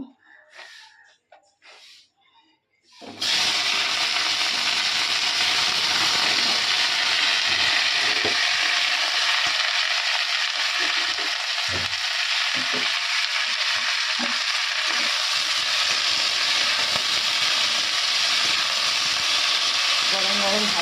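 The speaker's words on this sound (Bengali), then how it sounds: "কড়াইতে আমি এখন তেলটা দিয়ে দিয়েছি গরম হয়ে গেছে তো ভাত ভাজাটা করবো" Leftover rice hits hot oil in a wok and erupts into a loud, continuous sizzle that runs for many seconds after a few quieter handling sounds, with occasional stirring scrapes and faint voices.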